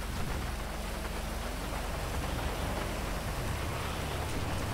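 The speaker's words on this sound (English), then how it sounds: "What is this rain?" Dense rain noise from a police video game, a constant wash of falling water with a faint low rumble underneath, steady throughout and with no talking.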